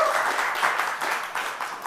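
Hand clapping in a television talk show studio during a football discussion: quick, even claps in a dense run, fairly close, with no voices over them.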